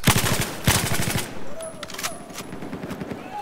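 M240B machine gun fire in the Battlefield 4 video game: a close, loud rapid burst of rounds at the start, followed by fainter scattered shots and game noise.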